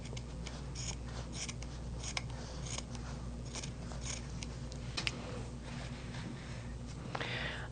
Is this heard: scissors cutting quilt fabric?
yes